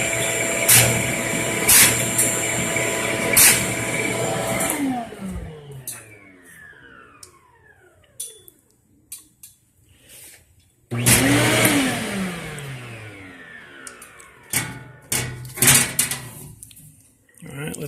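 A Ridgid shop vac pulls through a 4-inch-to-2-1/2-inch dust collection hookup on a Ridgid table saw, roaring steadily, then winding down in a falling whine before starting up again loud, with thumps and clatter around it and some talk.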